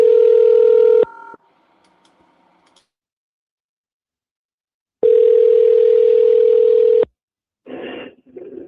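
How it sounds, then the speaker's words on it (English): Outgoing telephone call: a loud steady tone cuts off after about a second and gives way to faint dialing blips. A second long tone follows, then a short voice-like burst at the end. "Bug and Blazer, we've had some good calls, but right now they seem to not be picking up"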